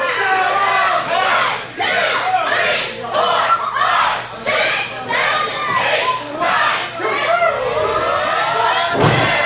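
Near-capacity wrestling crowd at the MPW Arena cheering and yelling loudly and continuously, with surging waves of shouts and a sharp thud near the end.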